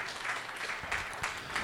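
A church congregation claps their hands in praise during a worship service, giving a brief burst of scattered applause at moderate distance.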